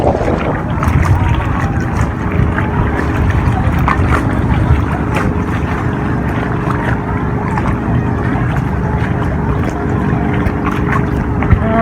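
Steady low engine drone of a boat on open water, with wind buffeting the microphone throughout; continuous and fairly loud.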